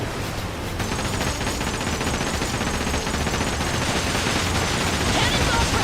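Dense, continuous rumbling barrage of booming shots and crackling blasts, loud and unbroken, like heavy ship cannon fire in a pirate video game battle.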